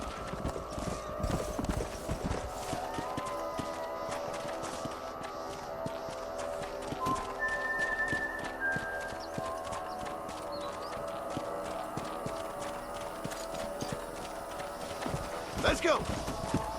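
Horses trot with steady clip-clop hooves in the Western video game Red Dead Redemption, mid-distance, with occasional neighs, a continuous ambient bed and a voice talking over the hoofbeats.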